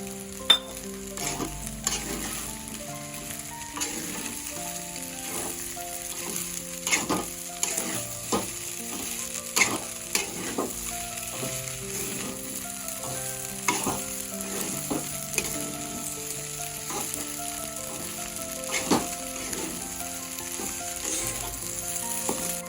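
Sabudana khichdi with crushed peanuts sautéing in a pan for a fasting dish, a steady sizzle under repeated scraping and stirring clicks of a spoon against the pan, moderately close and with no talk.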